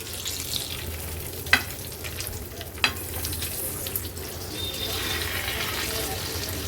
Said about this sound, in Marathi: हा पापलेट आपण फ्राय करत ठेवला होता.